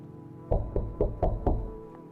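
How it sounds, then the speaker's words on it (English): Knocking on a door in the video game No, I'm not a Human: five evenly spaced, fairly loud knocks in a row, followed by a fainter sixth tap, with no talking. "Are they knocking on the door?"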